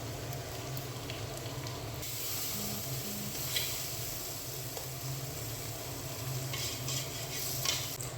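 Goat trotters for nihari fry in a pan and are stirred, a steady soft sizzle with occasional scraping touches, no talk heard.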